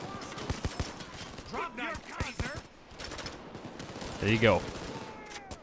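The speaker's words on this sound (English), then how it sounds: "The grenade of the Orbital Grenade Launcher travels in an instant." An Orbital Grenade Launcher fires in Payday 2 amid a rapid, loud fusillade of gunfire with sharp, closely spaced shots. Someone speaks briefly over the shooting.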